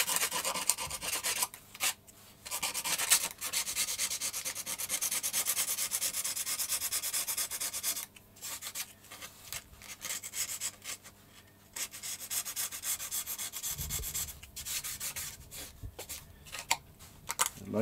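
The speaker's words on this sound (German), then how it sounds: "Gehen wir mal ein ganz klein bisschen die Überstände hier noch ein bisschen runter schleifen." Sandpaper rubs off overhanging material on the fuselage of an F3K glider in repeated close, dry scraping strokes, broken by brief pauses, with no talk.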